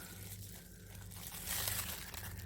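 Scissors cutting a paper circle from scrap paper, a brief close crinkling and snipping rustle that swells slightly midway, quiet and continuous with no talk.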